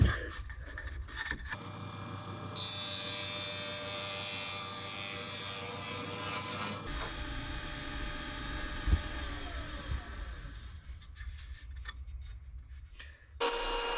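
A bright, steady scraping whir of a tool cutting fine, wispy shavings from a wooden bowl spinning on a woodturning lathe runs for several seconds, then eases off into a softer rubbing hiss.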